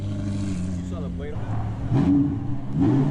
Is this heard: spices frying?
no